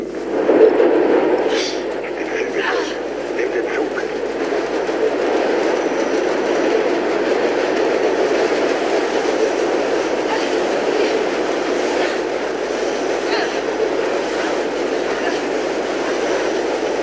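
Subway train rumbling past in the Mirror's Edge video game, a steady loud roar with clattering rail noise sustained throughout, no talking.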